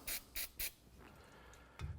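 Brake cleaner sprayed onto the rear brake parts of a 2005–2016 Toyota RAV4: three short, sharp hissing bursts in quick succession, close by, followed by quieter rustling and a low thump at the end.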